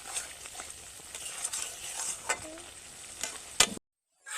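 Masala with added water being sautéed and stirred in a pan, a low sizzle broken by scraping spatula strokes and a sharp clatter near the end before the sound cuts out; no speech.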